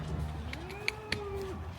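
A single cow moos faintly in a dairy barn dry cow pen, one drawn-out low call over steady barn ambience with a couple of short sharp clicks.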